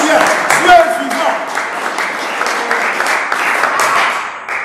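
A church congregation applauds during a sermon, with loud, dense clapping throughout and voices speaking and calling out over it.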